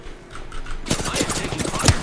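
Video game gunfire in a battle royale match, a quiet opening that breaks into rapid, close bursts of shots and rattling automatic fire for the rest of the clip.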